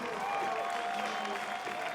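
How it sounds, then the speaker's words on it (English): Crowd applause and cheering fill an arena at the 2019 Reebok CrossFit Games team strongman event in Madison, Wisconsin, a broad distant roar under a faint tonal hum, steady for the whole stretch. "Give him a big round of applause, Madison, Wisconsin."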